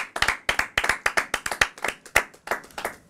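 A round of hand clapping from a group, sharp claps in quick uneven bursts, fairly loud and close, with no talking.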